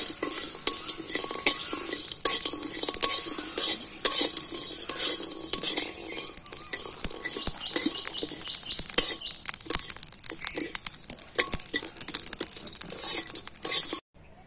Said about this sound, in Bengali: চাপটা বানানোর জন্য আমি মশলাগুলো সব ভেজে নেব। হালকা করে ভেজে নেব এটা।